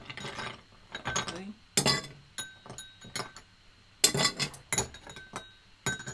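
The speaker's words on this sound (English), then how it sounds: "We'll get our ice into our glass." Ice cubes dropped into a cocktail glass, a series of sharp clinks and rattles in irregular bursts, close and clear with quiet pauses between.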